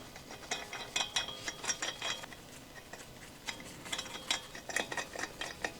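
Ratchet wrench spinning lug nuts onto the rear wheel of a 2011 Ford Explorer 3.5L, bursts of rapid metallic clicking in uneven runs, close and moderately quiet, with no talk.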